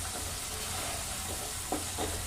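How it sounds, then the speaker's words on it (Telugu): Ginger garlic paste frying in a pan for green chicken: a steady, dense sizzle and hiss throughout, with a couple of faint clinks near the end. "కొద్దిగా అల్లం వెల్లుల్లి పేస్ట్ వేసి ఒక 2 నిమిషాలు అయితే ఫ్రై అవ్వాలి"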